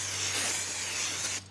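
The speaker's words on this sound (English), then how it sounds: "That's so we can give it a good spray with some brake clean" Brake cleaner sprayed onto a brake rotor of a Kia Sorento makes a steady, close hiss lasting over a second before cutting off abruptly.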